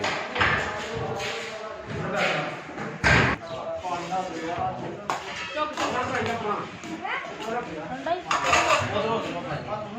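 Metal pots and utensils clatter and thud in a busy wedding kitchen as korma is reheated and mixed, irregular clanks and scrapes under steady background chatter of workers.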